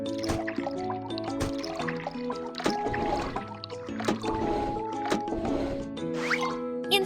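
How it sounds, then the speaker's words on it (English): Cartoonish game sound effects of liquid being poured into a car's tank, gurgling and sloshing with squishy splashes and short chimes, fairly close and continuous. "Pour liquid into the correct tank."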